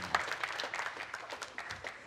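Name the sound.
audience applause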